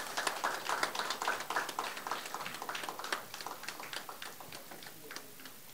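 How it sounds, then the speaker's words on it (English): A student film festival audience applauds the short film category winner with a steady patter of many hands clapping, moderately distant and fairly quiet, fading slightly toward the end. "A round of applause for the winner of the short film category."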